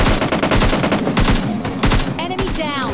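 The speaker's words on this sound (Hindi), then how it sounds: "मुझे इधर से फायरिंग की आवाज़ आ रही थी" Gunfire in PUBG Lite comes as rapid, loud automatic bursts in a quick staccato rhythm with short gaps between volleys, and a voice briefly near the end.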